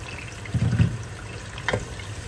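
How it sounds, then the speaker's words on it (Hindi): Water is poured into a cooking pan of tomatoes, a brief, soft splash and gurgle followed by a faint drip, quiet and close against low kitchen background noise. "टमाटर डाल दिए हमने, थोड़ा सा पानी के साथ ऐड कर दूँगी ताकि टमाटर गल जाए"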